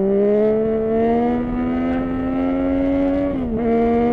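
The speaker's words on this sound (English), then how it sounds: "I'm gonna go off and do some more wheelies." Yamaha 900 LC motorcycle engine revving hard and steady, a loud close harmonic drone that holds its pitch with a slight rise, then dips briefly near the end before picking back up.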